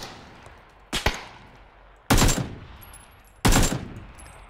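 Three loud bursts of gunfire a second or so apart in the video game PUBG, each a sharp crack with a short decay, over faint background noise.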